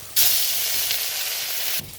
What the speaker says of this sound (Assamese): মই প্ৰথমতে মাছখিনি ভাজি লম